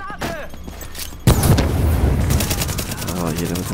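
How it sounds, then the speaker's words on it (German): Gunfire in Tom Clancy's The Division: a loud burst kicks in and continues as dense, rapid shooting with booming impacts, while someone talks over it. "Er ballert hier fleißig."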